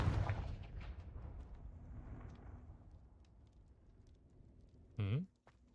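A Confringo blasting spell cast in Hogwarts Legacy bursts out as one short, loud blast with a falling tonal whoosh near the end, after a stretch of quieter game ambience.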